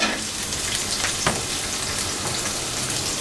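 Onions sizzle steadily in a tablespoon of oil in a pan over medium-high flame, a close, continuous crackling hiss with one brief stir-like clatter and no talking.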